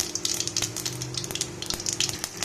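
Cumin seeds crackle in hot oil alongside spluttering mustard seeds for a bitter gourd palya, with a close, steady hiss broken by sharp pops throughout.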